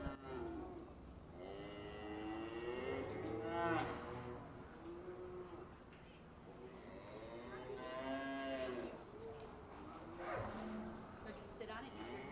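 Shorthorn heifers at the Wisconsin Shorthorn State Open and Junior Show moo repeatedly, several drawn-out, quavering calls rising and falling across a quiet arena backdrop with faint voices.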